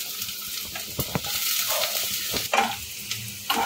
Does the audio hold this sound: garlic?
yes